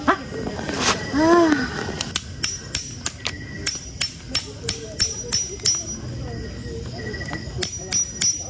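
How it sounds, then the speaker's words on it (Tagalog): Steady hammer blows ring out at a campsite, a regular series of sharp metallic strikes roughly every half second, close and loud, with a voice briefly sounding at the start. "Kada camping po may martilyo session si Daddy."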